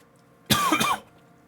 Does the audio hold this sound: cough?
yes